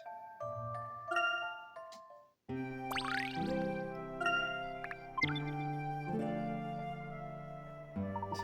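Chiming bell tones ring out in the Professor Layton and the Miracle Mask video game, bright tinkling notes layered over sustained game music, clear and alone with no voices.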